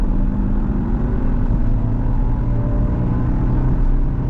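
A car with 100,000 km on it pulling hard in third gear: a dense, loud engine drone with a rising tone, continuous and close, heard from inside, with no talk.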